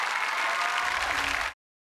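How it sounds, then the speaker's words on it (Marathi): Loud applause from a studio audience at a Marathi comedy game show, a dense, steady wash of clapping that holds at full strength for about a second and a half before cutting off abruptly into silence. "जोरदार टाळ्या."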